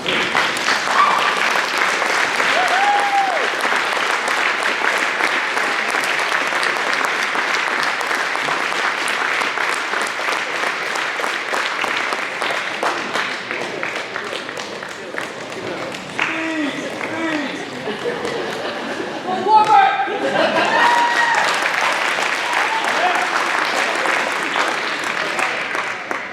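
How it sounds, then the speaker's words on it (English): Sustained applause from an audience at a winter awards ceremony, dense steady clapping filling the room for over twenty seconds with a brief louder swell near the end. "Can we all please stand and give Laura a round of applause?"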